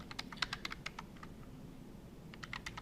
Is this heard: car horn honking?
no